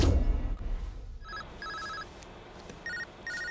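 A mobile phone rings with repeated short electronic ringtone bursts in a regular pattern after a brief muffled noise, fairly clear and with no speech over it.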